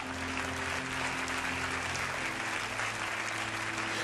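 A church congregation claps and applauds steadily, a dense, continuous wash of many hands with a faint background hum, loud and unbroken throughout.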